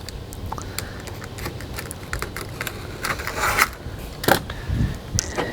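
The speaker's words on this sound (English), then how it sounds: "And then I'm going to trim it with this blade." A blade trims 3M tape during an RV solar panel installation, giving scattered scraping, rasping cuts and small ticks at close range, some louder strokes near the end, with no talk.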